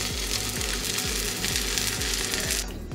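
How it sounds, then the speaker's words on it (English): Reverse-seared meat searing in a hot pan, a loud, steady, close sizzle that holds throughout and drops off slightly near the end. "And we're gonna sear them."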